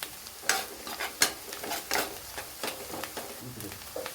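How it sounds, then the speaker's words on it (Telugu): Onion and green chilli frying in a pan until browned for chicken pulav, a soft continuous sizzle punctuated by several sharp spatula stirs and scrapes at irregular intervals, close-up and moderately quiet, with no talking. "Onion, green chilli brown colour రావాలి."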